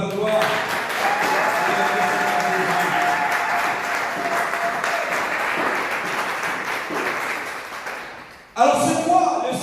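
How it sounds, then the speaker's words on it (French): A French church congregation applauding loudly in a worship service: sustained, dense clapping from a large crowd with voices mixed in, dipping briefly near the end before a fresh burst. "On l'acclame très fort pour la gloire."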